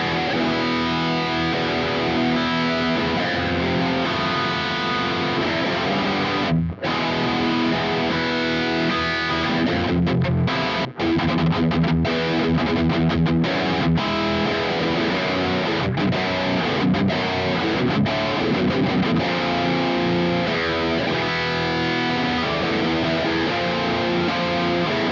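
Heavily distorted electric guitar plays continuously through a Marshall amp on its distortion channel, a thick, saturated tone with chords and riffs filling the whole stretch, no talking.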